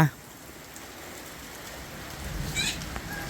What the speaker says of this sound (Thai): เมื่อกี้กับฝนได้ตกลงมา